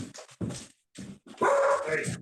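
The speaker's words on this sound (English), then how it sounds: "Damn dogs." Dogs barking in short bursts close by and fairly loud, with a voice talking over and between them.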